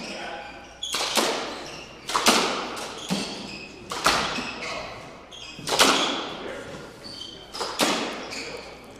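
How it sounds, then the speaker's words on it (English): Pickleball paddles strike the ball about eight times in a steady doubles rally at a professional open tournament. The hits are crisp, hollow knocks under a commentator's voice. "Good reset shot by Andres."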